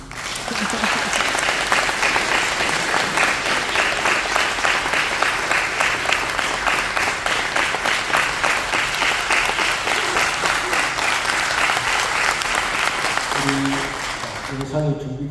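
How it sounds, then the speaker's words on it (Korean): Sustained applause from a church audience at a summer conference, dense and steady throughout as a speaker comes on stage, fading slightly near the end. "이제 나오실 때 박수"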